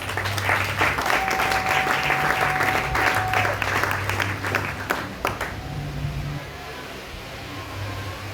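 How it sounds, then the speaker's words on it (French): A church congregation applauding during a sermon, a dense wash of clapping and cheering that fills the room for several seconds, then tapers off into quieter room noise. "Si tu es d'accord avec moi, acclame le Seigneur."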